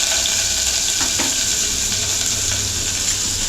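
Onion fries in a tadka with curry leaves, sizzling steadily and loudly in hot oil, with a few soft stirring scrapes in the pan.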